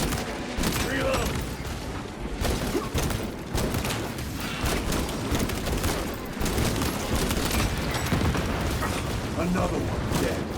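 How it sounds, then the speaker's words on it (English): Explosions and rapid gunfire from the video game Space Marine II, dense bursts and booms crackling almost continuously, with a player's voice talking over the battle. "I don't know what blew up, but it blew up nicely."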